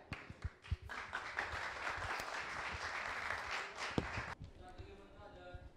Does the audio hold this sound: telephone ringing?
no